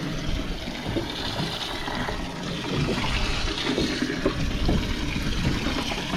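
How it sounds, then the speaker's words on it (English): Water pumped into a fishing boat's live well gives a steady, rushing gurgle of liquid that runs close and fairly loud through the whole stretch, with no talking over it. "All right, I'll pump some water in there"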